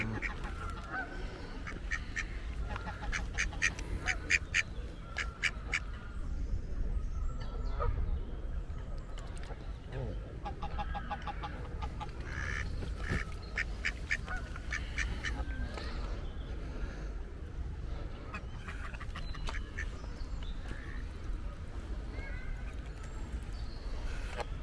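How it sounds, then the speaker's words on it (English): Canada geese honk repeatedly in scattered bursts, some close and loud, others farther off, over a steady outdoor background at a lake in London with occasional talk. "Yes, Canada geese they are."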